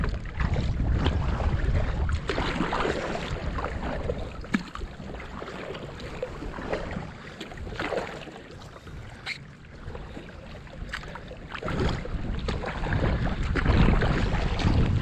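Kayak paddling downstream on the Susquehanna River, with continuous water wash and splashing over steady wind rumble on the microphone, a few sharper paddle splashes standing out across the stretch.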